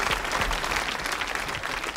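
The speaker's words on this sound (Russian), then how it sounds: "Аплодисменты." Studio audience applause on a televised quiz show, a steady burst of clapping that fills the whole two seconds at even loudness with no speech over it.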